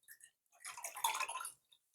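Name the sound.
cranberry and orange juice being poured into a glass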